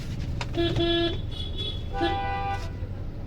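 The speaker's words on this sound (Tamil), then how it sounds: "ஹாரன் போடுங்க அவருக்கு." A car horn toots twice, short, loud blasts separated by a pause, over a low rumble of engine and road noise during a driving lesson.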